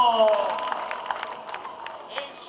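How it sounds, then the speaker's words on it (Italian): Live audience applause and cheering at an over-50 show in Vaiano, a dense wash of clapping that gradually thins, with scattered whoops and crowd noise throughout. "E facciamo un bel applauso, signori"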